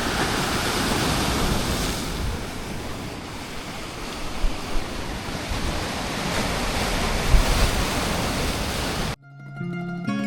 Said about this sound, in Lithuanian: Taip gražiai bangos.